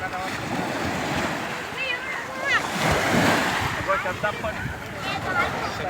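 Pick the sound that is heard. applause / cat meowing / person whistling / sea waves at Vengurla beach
sea waves at Vengurla beach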